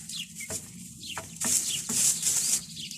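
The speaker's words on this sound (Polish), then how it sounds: "kupiłem sobie kury" Newly bought hens clucking close by, a few short sharp clucks and squawks in quick succession with brief quiet gaps between, alone without talk.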